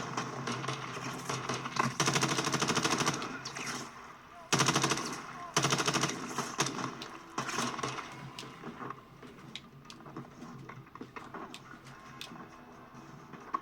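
Rapid automatic gunfire in the video game Call of Duty Modern Warfare 2, loud bursts of sustained fire interrupted by short pauses, followed by scattered single shots and quieter game noise.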